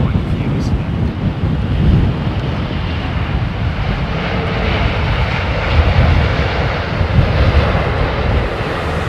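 Boeing 777 jet engines roar in reverse thrust during landing at London Heathrow, a loud, continuous broadband rumble buffeted by wind noise for the whole stretch.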